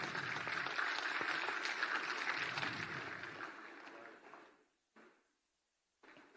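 Audience applause at a Jharkhand state legal service and empowerment camp, a dense burst of clapping from a large crowd that fades out after about four seconds, then brief short bursts.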